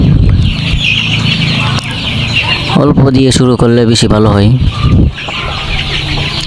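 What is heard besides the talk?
layer chickens clucking in a poultry shed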